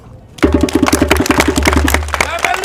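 An audience at a gathering about Burkina Faso claps together in a dense burst of applause that starts abruptly and holds steady, with voices mixed in throughout.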